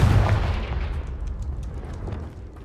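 Confringo spell explosions in the video game Hogwarts Legacy, one loud, close blast that rolls off into a fading rumble and crackle, with no voices.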